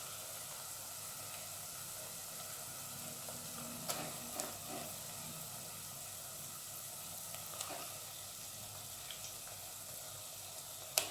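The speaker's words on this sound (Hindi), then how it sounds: "बस हल्की सी ब्राउन, हल्की सी फ्राई हो जाए तो इसमें हम चिकन डाल देंगे।" Sliced onions fry lightly in a pan for green coriander chicken, making a soft, even sizzle that runs throughout, broken by a few quiet stirring taps and scrapes.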